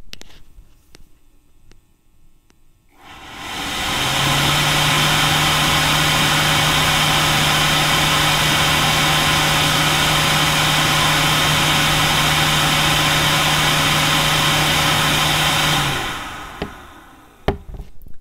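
A Ubiquiti UDM-Pro network gateway starts up close to the microphone. A loud, steady fan whoosh with a constant hum holds for about twelve seconds, then drops away to quiet.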